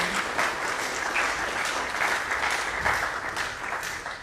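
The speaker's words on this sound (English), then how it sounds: "I would appreciate another round of applause for her contribution this evening." Steady applause from the audience at an evening history lecture in Barbados, a continuous even wash of many hands clapping at moderate volume with no speech over it.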